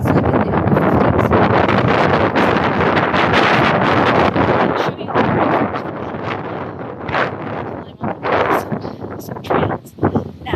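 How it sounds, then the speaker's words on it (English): Strong wind buffets the microphone on a hilltop hiking trail, a loud continuous roar with gusts that ease briefly near the end, with faint voice-like sounds under it. "very, very windy up here"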